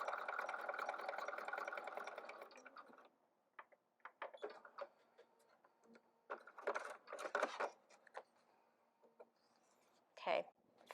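A sewing machine runs steadily for about three seconds while stitching English paper piecing units, then falls quiet apart from scattered short handling clicks and rustles.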